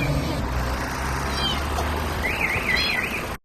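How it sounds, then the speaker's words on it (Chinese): A cat meowing from somewhere inside a moving car, a couple of thin, wavering cries rising over the steady rumble of the road and engine. "这里一直有一个猫叫声"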